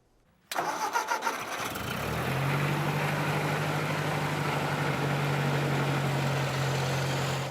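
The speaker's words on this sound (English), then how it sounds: "It's a utility tractor." A Ford 2000 utility tractor engine turns over and catches, then settles into a steady, low rumbling idle close by, with no talking.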